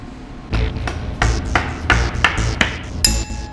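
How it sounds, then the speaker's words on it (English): A hammer strikes a screwdriver driven into a titanium screw, giving about eight sharp metallic taps in an uneven rhythm, close and loud with no talking. "Shove it in here, hammer it real good, and spread those things apart,"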